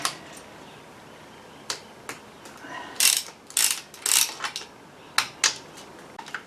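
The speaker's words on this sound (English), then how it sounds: "first thing to do is get this top of the gearbox off" Tools work on the gearbox top cover of a Triumph 2500 MK I, producing a scattered series of sharp metallic clicks, ratcheting and clanks, some close and bright, with quiet pauses between.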